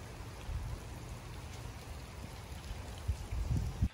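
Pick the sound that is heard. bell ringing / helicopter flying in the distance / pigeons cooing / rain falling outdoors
rain falling outdoors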